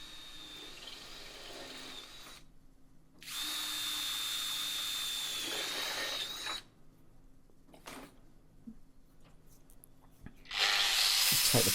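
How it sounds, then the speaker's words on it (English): A stub drill whines in two long bursts into a galvanised window frame, separated by quieter gaps with faint handling noise, then starts up again at the end. "being a stub drill, it's nice, real nice to use"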